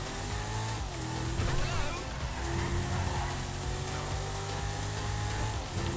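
Engine of a Dinka Jester sports car in GTA Online, lowered and tuned, drones steadily and fairly loud with shifting pitch while driving, with faint voice-like sounds mixed in.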